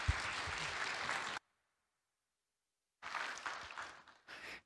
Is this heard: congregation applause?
yes